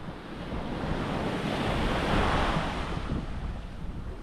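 Calm sea waves wash onto a shore in the Philippines, a steady broadband rush that swells and recedes, mixed with wind buffeting the microphone, with no talking.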